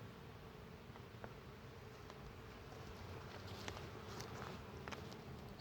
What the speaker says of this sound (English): there's a decent amount of bees up here